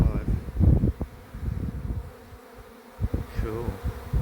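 A honey bee swarm settling into a stack of hive boxes outdoors, giving a steady low insect buzz close by with irregular swells and brief lulls, and faint voices now and then.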